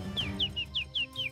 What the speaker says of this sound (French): Écoutez, le chant d'un rossignol.